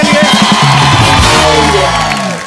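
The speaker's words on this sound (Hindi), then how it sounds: "जोरदार तालियां एक बार फरहान सर के लिए" Studio audience of The Kapil Sharma Show whooping and cheering for Farhan Akhtar, a loud sustained crowd roar with shouts that tapers off near the end.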